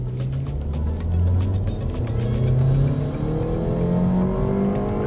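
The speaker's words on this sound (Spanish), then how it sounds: "Activo el modo Sport, voy a fondo" Mazda 3 mild hybrid sedan with Skyactiv technology accelerating at full throttle in Sport mode, engine droning and rising steadily in pitch, heard from inside the cabin with a continuous low rumble.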